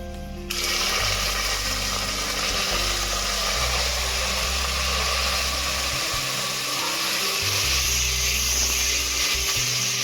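Green beans dropped into a hot pan, setting off a loud, steady hiss that starts suddenly and keeps up without a break for about ten seconds, with a low hum underneath.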